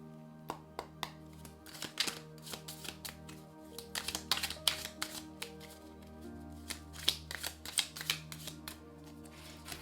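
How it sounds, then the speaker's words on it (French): Bible oracle cards being shuffled and drawn, with a rapid run of crisp riffling flutters and sharp card slaps over a soft, steady background hum and faint music. "je vais vous montrer par exemple, on va juste tirer une carte."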